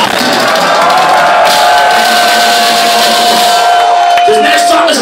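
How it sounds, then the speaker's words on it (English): A metal concert crowd in Montreal cheers for Christian, a dense loud roar of shouting and whooping with a sustained yell held over it, filling the whole stretch. "Cheer it up for Christian!"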